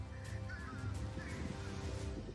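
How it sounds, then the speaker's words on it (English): Fish crows calling at a pond in Florida at sunrise, their nasal caws coming through a busy wash of outdoor ambience, moderately close and overlapping. "Those are all the fish crows."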